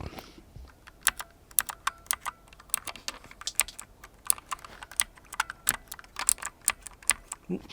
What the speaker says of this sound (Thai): เสียงของคีย์บอร์ดตัวนี้นะครับเมื่อปลดกดปุ่ม